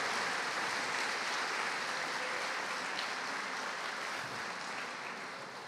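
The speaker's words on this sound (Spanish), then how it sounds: "Un fuerte ese aplauso" Sustained applause from a church congregation, a dense, even wash of many hands clapping at a distance, fading slightly toward the end, with no speech on top.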